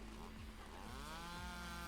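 A chainsaw used as an audio drama sound effect buzzes steadily and loudly throughout, its motor whine rising and falling slightly as it is swung, with no pauses.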